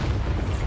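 A Bombarda spell blasting in Hogwarts Legacy gives a dense, booming low-end explosion with a rumbling body, sustained loud for under a second.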